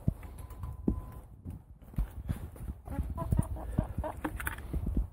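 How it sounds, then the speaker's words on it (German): Rooster and hens at a backyard poultry run in Mechelen, clucking and calling in short irregular bursts close by, with scratching and shuffling throughout and brief indistinct voices. "Hähne."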